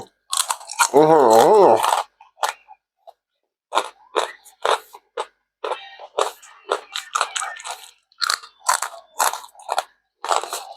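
Crispy baked jackfruit snack crunched between the teeth in a series of sharp, close bites and chews, with a brief hum and sung voice near the start and short pauses between crunches.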